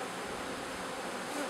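Bees swarm with a dense, steady buzz close by while a new brood is installed in a hive, with no talk.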